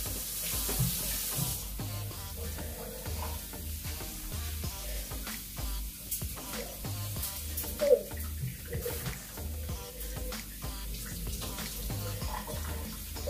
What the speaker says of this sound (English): so guys I'm going to wash this rice now.